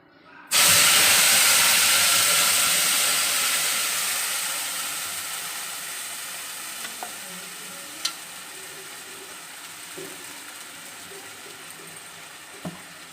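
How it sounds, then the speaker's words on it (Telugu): An onion and tomato puree for a chicken curry hits hot oil with a sudden loud hiss that settles into a steady sizzle, slowly fading, with a few faint clinks. "ఆనియన్, టమోటా అయితే ప్యూరీ చేశానమాట. ఆ ప్యూరీ అయితే అందులో వేసుకునేద్దాం."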